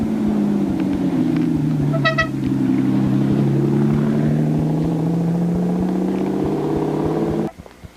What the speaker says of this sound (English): this is that beautiful, rare periscope Lamborghini Countach I told you about earlier